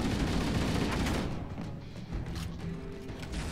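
Gunfire in Halo during co-op play, with a dense loud volley of shots and explosive thumps at first, then thinning into scattered, quieter bursts.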